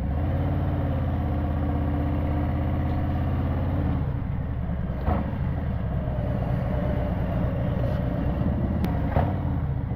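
Several Harley-Davidson motorcycles idle together, lined up at a dealership for a group ride, making a steady low engine rumble with a louder thumping burble that shifts partway through.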